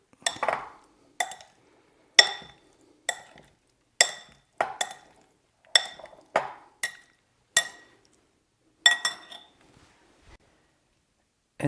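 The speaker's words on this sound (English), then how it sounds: "Give that a big stir to incorporate." An arugula and grape tomato salad dressed with lemon juice and salt, stirred in a bowl: about a dozen separate clinks and taps of utensils against the dish, evenly spaced, with short silences between.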